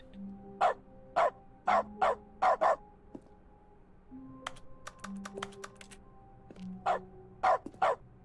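In the dog mode of the video game The Stanley Parable Ultra Deluxe, short game dog barks replace mouse clicks, sounding in quick clusters of two to four sharp yaps separated by brief pauses, loud and close.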